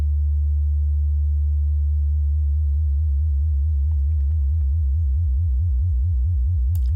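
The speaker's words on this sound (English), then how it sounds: "It's like a super, super wide vibrato, right?" A synthesized sine wave in Studio One, pitched extremely low, sits alone as a steady deep hum whose pitch swings up and down in a very wide, slow vibrato that speeds into a regular wobble.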